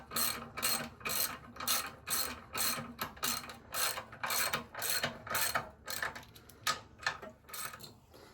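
A hand ratchet tightening bolts during a Predator 224 engine install, rapid rhythmic clicking in short repeated bursts, close and fairly quiet, with no speech.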